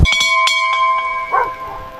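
An alarm bell rings in a stormy wooded setting: a loud first clang, then several quick strikes that ring on and fade, with a brief bark-like sound near the end.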